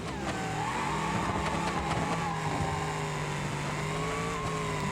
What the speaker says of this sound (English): Okay, this motor's too loud.